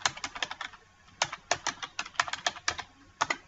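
Rapid typing on a computer keyboard in short bursts of crisp, close key clicks with brief pauses between groups, entering bibliography details into a word processor, with no talking.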